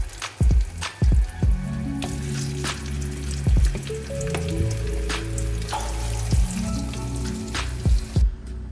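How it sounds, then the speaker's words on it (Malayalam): Slices of pumpkin fry in hot oil in a pan, a steady crackling sizzle with frequent pops and spits throughout, close and fairly loud with no talk. "ഇതേപോലെ നമ്മൾ ബാക്കിയുള്ളത് കൂടി അതേപോലെ ഫ്രൈ ചെയ്തെടുക്കുക."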